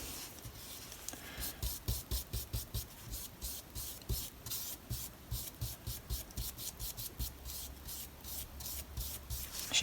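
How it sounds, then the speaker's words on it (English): Paint being scraped out of two grooves along the grain of a piece of junk furniture being upcycled, heard as a steady run of quick, rhythmic rasping strokes close by, with no talking. "So just making sure that I'm scraping that paint out of those"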